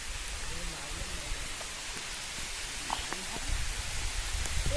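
Steady heavy rain hissing across an outdoor garden and cricket ground in Konkan, a dense continuous wash that swells a little toward the end, with faint voices in the background.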